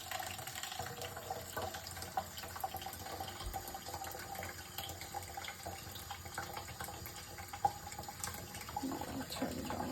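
Tap water runs into a Mahugde countertop dishwasher, a faint, steady trickle and hiss at low level with small drips and splashes, and no talking.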